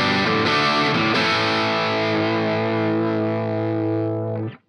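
A '70 Les Paul through a dirt pedal patch on a switching system rings out one loud, sustained distorted chord that holds steady for a few seconds and then cuts off abruptly.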